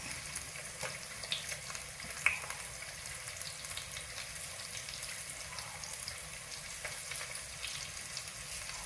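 Fish curry ingredients with turmeric and curry leaves fry in a pan with a soft, steady sizzle and faint crackles. The sound is quiet and even throughout, with no voices.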